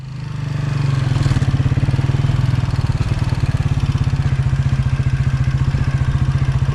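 A motorcycle at a Ukrainian riding school runs steadily close by, its engine throbbing in a fast, even putter that holds loud and constant throughout, with no talking.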